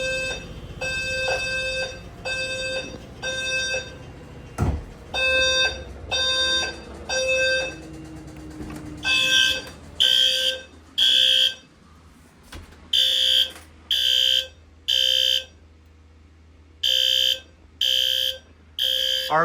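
Garage fire alarm device set off from a pull station, sounding a loud repeating horn-strobe pattern of short electronic blasts in steady rhythmic bursts, close and dominant throughout.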